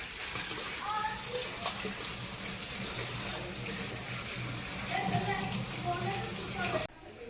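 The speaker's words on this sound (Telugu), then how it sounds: "ఇప్పుడు గోంగూర ఫ్రెష్గా కడిగేసుకుందాం" Gongura leaves are rinsed under running tap water, a continuous gushing stream with splashes close by, while a person talks over it until the flow stops near the end.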